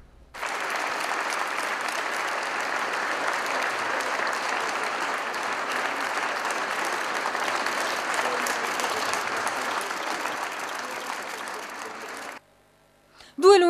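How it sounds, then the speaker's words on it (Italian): Long, sustained applause from a large crowd in a town square at a funeral as the coffins arrive, an even wall of clapping lasting about twelve seconds before cutting off abruptly into silence. "Lunghi applausi in una piazza sprofondata nel silenzio hanno accompagnato l'ingresso dei feretri"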